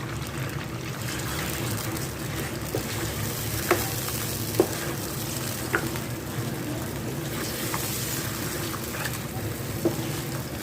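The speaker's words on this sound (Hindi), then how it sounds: "पहले मैं गोश्त को भून लूँगी" Steady sizzling and frying noise of beef with garlic-ginger paste in a pan, with occasional stirring scrapes and clinks, continuous and close, with no talking.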